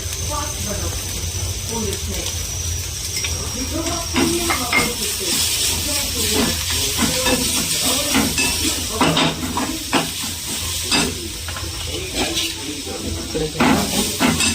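A hot tadka tempering for batata vada potato filling sizzles and hisses continuously, punctuated by small clinks of a spoon against the pan, with a voice talking in the background.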